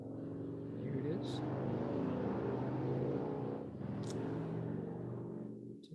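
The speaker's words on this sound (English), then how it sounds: "To the sound of roaring motorcycles." Loud, continuous engine roar from passing motorcycles outside a Buddhist monastery in Berkeley, a steady rumbling drone that swells and holds throughout, with faint speech mixed in.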